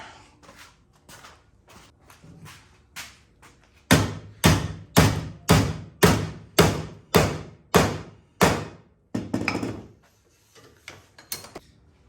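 A run of loud, evenly spaced hammer blows on metal, about a dozen strikes, preceded and followed by lighter taps, while building a chicken wire crabbing dip net.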